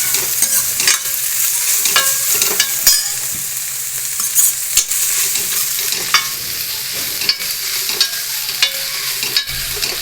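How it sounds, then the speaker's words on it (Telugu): Squeezed mottikayalu fry in a pan with a constant sizzle, broken by frequent sharp scraping and stirring strokes, close and loud, with no voices. "అన్నీ పిండేసి కొద్దిసేపు వేయించుకోవాలి మట్టికాయలు."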